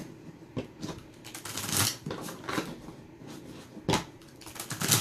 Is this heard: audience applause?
no